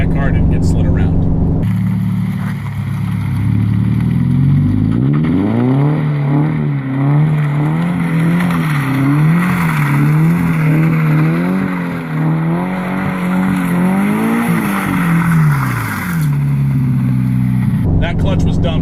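A rear-wheel-drive Toyota GT86 / Subaru BRZ / Scion FR-S sports car engine revs up and holds a rising, wavering roar for several seconds before easing back down, loud and close.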